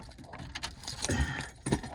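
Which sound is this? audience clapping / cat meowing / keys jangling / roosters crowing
keys jangling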